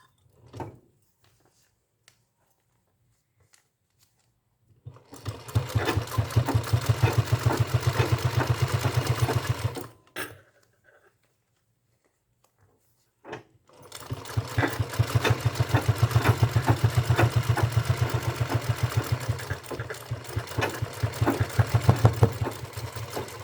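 A sewing machine stitches a purse in two loud, close runs of rapid even stitching, several seconds each, separated by a pause with a few faint clicks and handling sounds.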